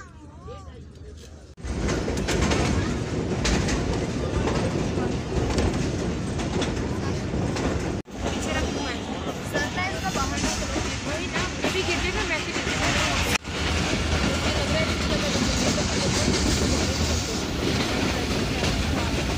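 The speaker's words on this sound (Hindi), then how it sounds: "साथ ही हमारी चल पड़ी ट्रेन, देखा होगा जिस तरह आप लोग अभी देख रहे होंगे" Passenger train pulling away and running along the tracks on a journey toward Lahore, a loud steady rumble with rhythmic clatter and wheel noise filling the whole stretch, close and continuous, with brief dropouts.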